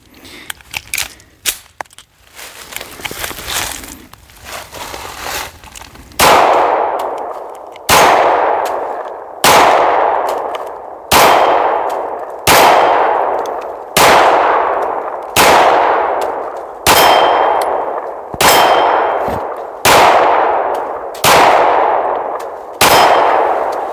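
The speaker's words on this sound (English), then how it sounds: "I'm gonna try shooting this bad boy one-handed" An EAA Girsan Witness 2311 pistol fired one-handed at a range, about eleven loud, sharp reports with echoing tails at a slow, steady pace, preceded by some metallic handling clatter.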